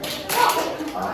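A group of children at a church summer Bible school giving a brief burst of rhythmic claps to call for attention, mixed with voices talking in the room.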